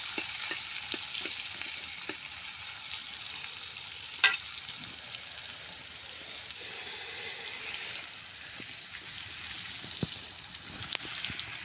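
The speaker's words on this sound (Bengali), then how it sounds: "এই যে পেঁয়াজটা সুন্দর করে লাল লাল করে ভেজে নিই" Onions frying in a pan until browned, with a steady, continuous sizzle and occasional soft clicks and stirring scrapes. A sharp clink comes partway through, and no voices are heard.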